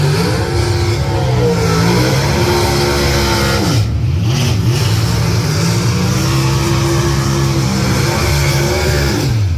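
A Funny Car roars down the drag strip at the U.S. Nationals, its loud engine holding a dense, high droning pitch that dips once and climbs again, close and steady throughout.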